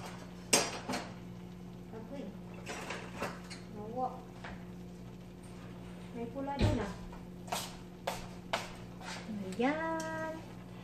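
Pancit noodles and vegetables stirred in a pan with a ladle: scattered metallic clinks and scrapes of utensil on pan come in irregular bursts, with a voice talking in between.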